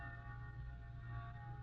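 A church bell tolls with a steady, sustained ring whose overtones hang in the air, heard alone at moderate level over a low hum.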